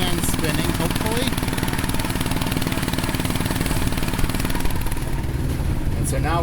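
The diesel engine of a 1955 Caterpillar 12 grader is rolled over by its small pony motor, a loud, close, steady mechanical clatter and drone that holds without pause throughout.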